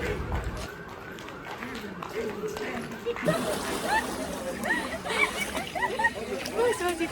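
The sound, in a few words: splashing water while bathing in the Gomti river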